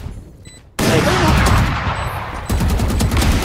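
Rapid automatic gunfire in a first-person shooter video game, fired through a wall, a dense loud burst that starts abruptly after a quiet moment and keeps rattling, with a second surge of shots near the end.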